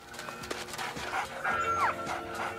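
A dog barks in the video game Enchanted Arms, a few short yips and whimpers amid game music and faint background chatter.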